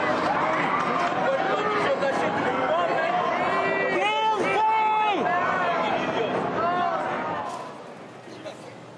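A large crowd in New York City cheers for Donald Trump, a loud, continuous roar of voices with rising shouts and whistles, easing off toward the end.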